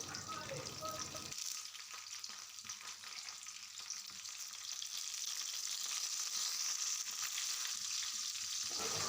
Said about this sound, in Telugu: ఈ కరివేపాకును కూడా ఒక 2 మినిట్స్ ఫ్రై చేయండి.